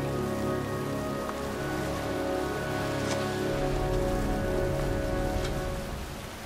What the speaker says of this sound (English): standing in a cemetery, pouring rain